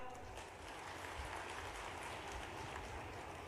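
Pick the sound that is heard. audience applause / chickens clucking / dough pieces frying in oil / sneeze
audience applause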